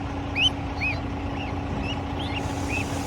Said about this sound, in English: You can hear the parrots over there.